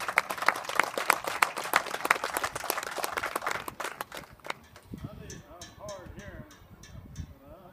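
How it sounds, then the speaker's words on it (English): An audience applauds World War II and other veterans at a West Texas salute, dense clapping for about four seconds before thinning to scattered claps under a voice. "A round of applause"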